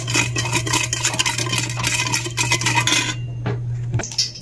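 Metal utensils clink and scrape steadily in a bowl while vinegar, sugar and onion are mixed into a dipping sauce, a busy close rattle that stops abruptly near the end, leaving a few isolated taps.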